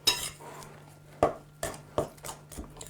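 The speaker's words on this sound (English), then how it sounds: "I'm going to mix it with a knife to start with, drawing the outside crumbs into the middle until it's beginning to stick" A knife works soul cake dough in a bowl, giving several sharp clinks and scrapes against the bowl in an irregular rhythm, close and fairly clear with no talk.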